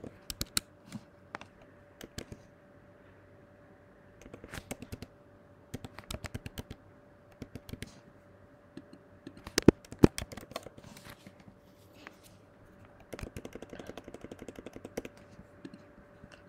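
Computer keyboard typing in scattered bursts of crisp clicking keystrokes, with pauses between runs and a faint steady hum underneath.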